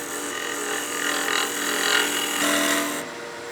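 Wood lathe spinning as a tool cuts a snowman oil candle, a steady whirring hum with scraping cut noise rising and falling over a few seconds, then an abrupt drop as the cutting stops.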